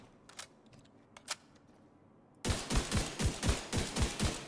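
Dragunov marksman rifle in The Division 2 firing rapidly: a string of about seven loud, sharp shots at a steady fast rhythm, preceded by a few faint clicks and handling sounds.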